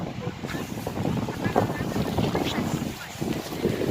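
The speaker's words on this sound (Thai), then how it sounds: "ลมแรงแรงเด้อพี่น้อง หนาวน้ำ เก้าองศา" Strong cold wind blows outdoors across a salad vegetable garden at nine degrees, buffeting the microphone in a steady gusty roar throughout, loud and close.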